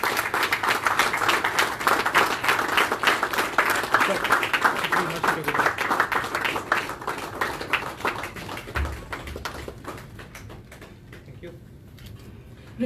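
Audience clapping at a book launch event for a longevity roadmap, a dense burst of applause under a speaking voice that gradually thins and fades out over several seconds.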